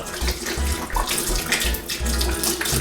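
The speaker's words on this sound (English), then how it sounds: "I fill up a bottle of water, and I'm going to show you exactly what's going on" Water runs from a kitchen sink tap into a bottle, a steady close rush with gurgling, bubbling pulses as air is drawn back through it. No voices.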